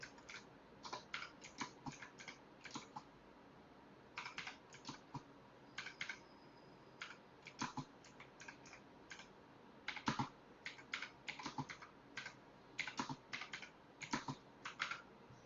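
Computer keyboard keys tapped in irregular bursts and pauses while list elements are typed in Python code, soft and close with no voices.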